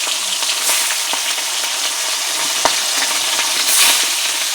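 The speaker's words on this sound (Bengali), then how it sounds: "তো এখন এক এক করে মাছগুলো ভাজা করে নেবো" Pieces of katla fish, rubbed with salt and turmeric, fry in hot oil in a pan, giving a loud, steady, close sizzle with crackling pops throughout and no talk.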